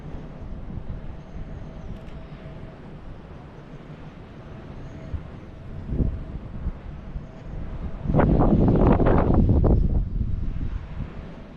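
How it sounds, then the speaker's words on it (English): Wind blows across a hilltop ringed by eastern red cedars on a rainy day, a steady roar against the microphone that rises into louder buffeting gusts near the end. "It's pretty windy"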